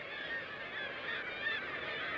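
Black-legged kittiwakes call from sea cliffs in the Mingan Islands, their overlapping nasal cries forming a steady, distant colony chorus with no voices.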